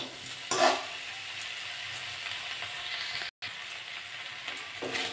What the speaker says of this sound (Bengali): গ্যাসটা কম করে আস্তে আস্তে ভাজতে হবে, বেশি জোরে দিলে হবে না, তাহলে পুড়ে যাবে।